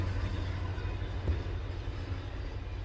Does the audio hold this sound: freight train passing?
yes